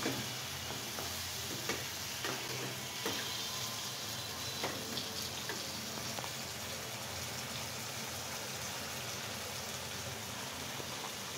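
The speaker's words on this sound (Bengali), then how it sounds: "আমি এখন এটা 5 মিনিট কষিয়ে নেব" Prawns or fish pieces with potato and tomato sauté in a pan, giving a steady, fairly faint sizzle with occasional soft stirring scrapes throughout.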